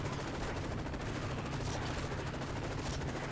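Sustained automatic gunfire in the Call of Duty Modern Warfare 3 video game, a dense rattling barrage that continues without pause over steady battlefield noise.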